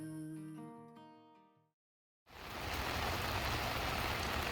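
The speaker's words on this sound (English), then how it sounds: "Go away, rain, rain, rain, go away." Steady heavy rain hisses as a broad, even wash of sound after a stretch of musical notes and a brief silence, loud and continuous to the end.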